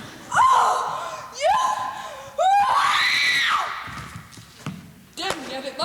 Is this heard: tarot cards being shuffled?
no